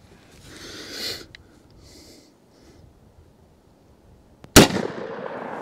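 A single sharp, loud .44 Magnum gunshot strikes an RTS Tactical Level III+ AR600 special threat armor plate, the blast standing alone after quiet with faint movement and rustling beforehand and a decaying outdoor echo afterward.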